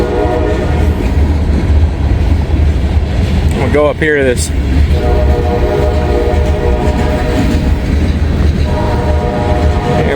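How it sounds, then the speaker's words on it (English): A train rolls through fog in Kentucky with a steady, loud rumble and clatter of cars, while a short horn blast sounds partway through; someone speaks briefly over the noise nearby. "but he's got to wait on the train."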